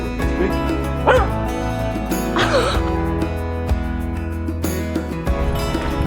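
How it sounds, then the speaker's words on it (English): Several excited pet dogs, including one named Trixie, yip and bark in short bursts over steady background music, with a couple of louder close yelps standing out. "But you got crazy doggies."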